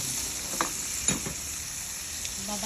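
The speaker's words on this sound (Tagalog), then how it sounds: "Maglalagay muna ako ng paminta para maigisa na natin at i-pre-cook ko muna ang hipon" Shrimp sautéed with pepper in a pan give off a steady, soft sizzle, with a few sharper crackles and pops rising above the continuous hiss.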